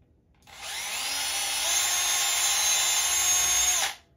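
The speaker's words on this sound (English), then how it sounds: "Just drilled some alignment holes." A power drill bores alignment holes in a wooden guitar headstock: one continuous whine close by that spins up, holds steady for about three seconds, then stops abruptly.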